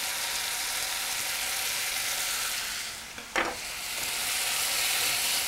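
Green chilies sizzle steadily in a hot pan during Indian home cooking, a continuous frying hiss with a brief scrape of stirring near the middle, close and fairly loud with no talking.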